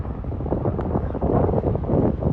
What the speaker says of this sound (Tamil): நல்லா காற்றடிக்குது.